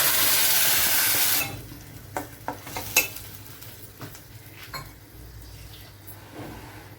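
Ground masala paste poured into a pan of tomatoes for egg drop curry, starting with a loud steady sizzle that drops away, followed by a few sharp clinks and stirring scrapes from the pan.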